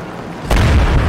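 Tank cannon firing in Call to Arms: Gates of Hell, a single loud, close, deep boom that strikes suddenly and rumbles on to the end.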